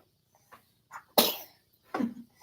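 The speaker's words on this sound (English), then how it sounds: "that is the cutest sneeze on all of YouTube now." A baby's small sneeze heard close, with a couple of quiet breathy catches before it and another soft burst shortly after.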